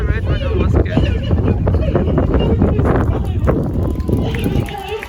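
Strong wind roars and buffets the microphone without a break at an outdoor bird of prey display, with voices faintly underneath.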